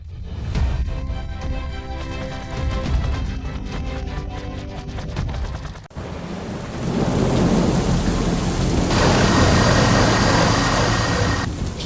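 A heavy thunderstorm with steady dense rainfall, thunder rumbling and cracking loudly throughout, a sharp thunder burst near the middle swelling into a continuous roaring downpour.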